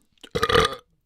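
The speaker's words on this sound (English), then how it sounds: "Egg burp." A single loud, close burp lasting under half a second, rising briefly out of silence and stopping cleanly.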